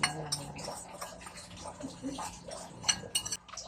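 A spoon clinks and scrapes against a glass while stirring halo-halo made salty and spicy with salt and chili, producing light, irregular taps and scrapes close up, with faint talk underneath.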